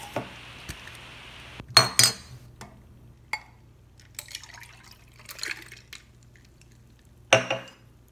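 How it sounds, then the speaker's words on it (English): Glass and cutlery clinks with a pour of liquid as a fall cocktail with mint, the Autumn Fizz, is put into a glass; a few sharp clatters and soft splashing in a quiet room, no talking. "Let me put it in the glass and try it."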